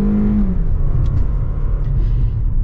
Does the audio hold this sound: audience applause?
no